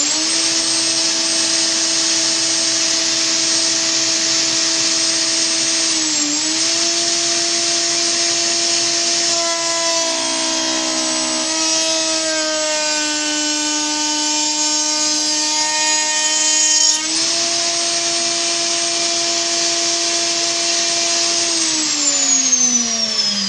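A router fitted with a drawer lock joint cutter runs at a loud, steady high whine as it cuts timber, the pitch dipping and shifting while the bit bites through the wood, then settling again.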